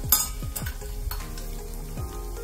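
Cumin and fenugreek seeds tempering in four small spoons of hot oil in a kadhai, a steady crackling sizzle with a few sharp pops and stirring scrapes, close and fairly quiet.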